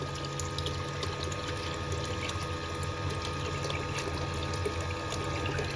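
Water runs steadily through a Gold Box gold extractor, a continuous close rushing and trickling flow with no pauses and no voices.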